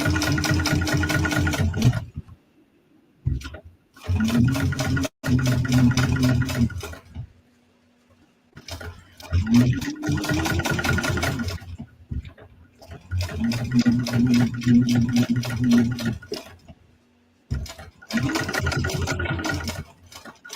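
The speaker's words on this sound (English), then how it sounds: "you want to put the stitch length up, top stitch length, and give that a good top stitch" A sewing machine runs in bursts while top stitching a bag, stopping and restarting several times, its steady motor hum and needle clatter close and loud, with brief pauses between runs.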